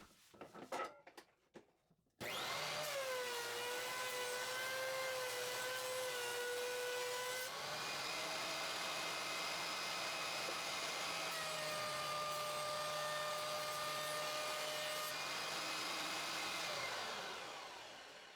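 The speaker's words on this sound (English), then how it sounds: "Now on the planer, same as the joiner," A wood planer feeds a board through, its motor spinning up after a few brief knocks into a loud, sustained whine and roar that holds for about fifteen seconds before easing off.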